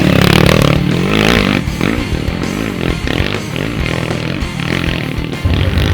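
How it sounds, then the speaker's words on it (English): A Yamaha sport bike claws over shady, rocky slick rock sections on a dirt trail at Brimstone. The engine roars loud and close, revving and labouring continuously without a break. "Denny Carson on his Yamaha sport bike struggles with some of the shady,"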